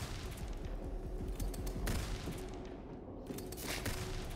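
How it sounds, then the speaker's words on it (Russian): Gunfire in the turn-based game Tenebris: Terra Incognita: a steady, dense rattle of volleys and distant booms somewhat in the background, with no talking. "Кто-то там активно стреляет."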